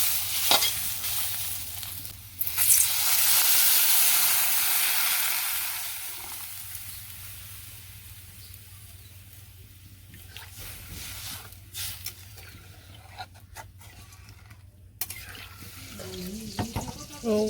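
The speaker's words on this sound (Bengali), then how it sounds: "এটা ভাজা হয়ে গেছে এখন জল দিয়ে দিই" Vegetable curry sizzles loudly in a pan on a village kitchen stove as water is poured in, a bright burst of hissing that gradually settles into a softer simmer with occasional stirring clatter.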